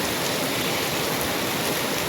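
Heavy rain pours steadily at night during a downpour in Kutch, a dense, continuous wash of loud hiss with no breaks and no voices.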